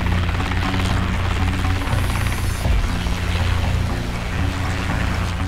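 A Boeing CH-47 Chinook twin-rotor, twin-engine helicopter operating over the sea, a loud continuous low rumble and throbbing rotor drone with a harsh wash of broadband noise, like spray or downwash.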